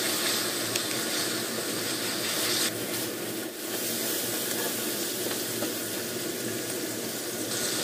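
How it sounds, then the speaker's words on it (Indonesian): Aromatics sauté in a pan for Chinese New Year dishes in Hong Kong, a steady, loud hiss of frying that carries on without a break and with no talking. "tumis sampai harum"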